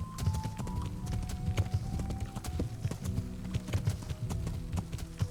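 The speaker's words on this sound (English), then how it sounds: "Let's run our horse across this field." Hooves clip-clop in a quick, steady galloping rhythm, with a horse snorting, over a faint background hum, from the video game Kingdom Come: Deliverance.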